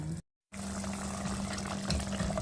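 Water pours into a cooking pot of Pinoy-style beef giniling, a soft, steady splashing with a low hum underneath, cut by a brief silent gap near the start.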